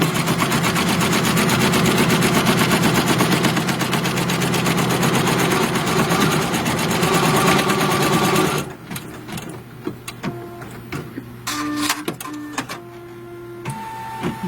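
An embroidery machine stitches the placement line for a small heart appliqué on a hooped in-the-hoop project, running with a loud, steady rapid needle rhythm for about nine seconds before stopping, followed by quieter clicks and handling sounds.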